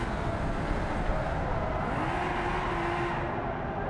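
A minivan drives past on a road, its engine and tyre noise a steady loud wash with a gentle rising whir as it nears, heard from inside a moving car.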